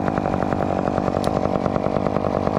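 Chainsaw running at a steady high rev while cutting a maple tree, a loud, close, buzzing engine drone with rapid pulsing, alone without talk.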